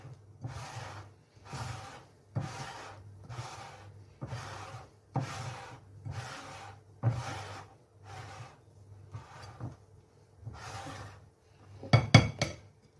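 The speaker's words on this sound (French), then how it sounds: "Toujours pareil, on va bien mélanger." A whisk or spatula works batter in a bowl for a strawberry roll cake, with about ten evenly spaced scraping, clinking strokes, then a quicker cluster of clinks at the end, with no one talking.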